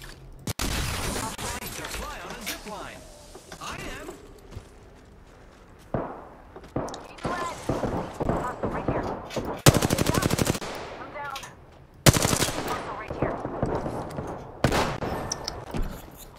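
Enemy gunfire in an online shooter game: repeated bursts of rapid automatic fire, some sharp and close, others more distant, broken by short pauses and set under a player's talk.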